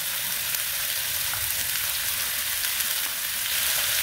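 Two tablespoons of ground chili paste sizzling in hot oil in a pan for a kecap chicken dish, a steady bright crackling hiss with faint stirring, close up and continuous with no talking.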